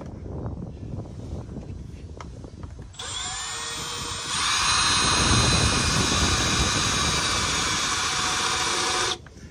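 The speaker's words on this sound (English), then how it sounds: "you don't want to put a ton of pressure on this as you drill it" A high-pitched power drill whines up, then steps to a louder, steadier drilling pitch with a grinding rumble underneath, close by, during a Ford Transit side step install, before cutting off abruptly.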